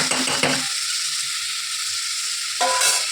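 Potatoes sizzle in hot oil with browned onions in a pan for Bengali chana curry, a burst of stirring clatter at the start, a steady frying hiss through the middle, and a second stir near the end.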